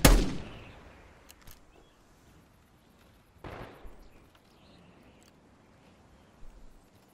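Gunfire in the video game Black Ops 6: a loud sharp blast opens the clip and decays, a second burst comes around the midpoint, then fainter shots follow, with no talking.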